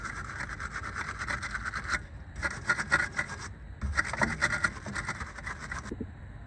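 A steering knuckle surface on a 2000 Mercedes E320 being scrubbed clean, giving close, continuous rasping strokes in three bursts with short pauses between them.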